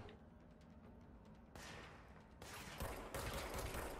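Gunfire in the video game Control, several sharp bursts that grow louder and denser toward the end, over a low steady rumble with no speech.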